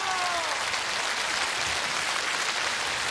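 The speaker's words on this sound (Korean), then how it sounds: "첫 번째 출연자에게 박수 주세요." Loud, sustained applause from a large outdoor audience at a Korean television singing contest in Hwasun, South Jeolla, welcoming the first contestant, with a brief musical tone at the start.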